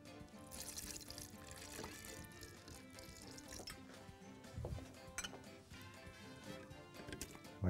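Water pours over vanilla ice cream while a peach, mango and canned pineapple cocktail is being made, giving a faint, soft trickle and splash with some clinking in a quiet kitchen.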